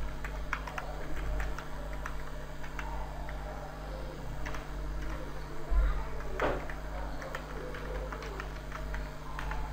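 Someone types an email address on a computer keyboard, light irregular clicks over a steady low hum, fairly faint and close, with one brief knock partway through.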